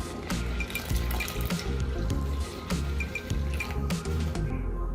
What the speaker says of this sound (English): Now we are going to add in warm water.